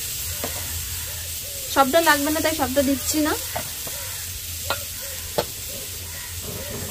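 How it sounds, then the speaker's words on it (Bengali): Freshly grated coconut is stirred in a hot wok for a sweet pitha filling, with a soft sizzle and the scrape of a spatula. Someone speaks briefly over the cooking sounds. "কড়াই নারকেল কোড়াটা দিয়ে দিচ্ছি।"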